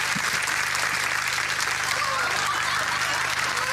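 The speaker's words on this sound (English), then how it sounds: "big round of applause, please, for Alan Muir." Dense, steady applause from a studio audience at a 1997 BBC comedy panel show, loud and continuous throughout with no voices over it.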